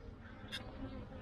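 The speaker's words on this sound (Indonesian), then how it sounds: "tawon madu yang masuk di dalam bak air bekas ya" Wild honey bees buzz around an old water tub outdoors, with one faint, brief buzz passing midway through against quiet background noise.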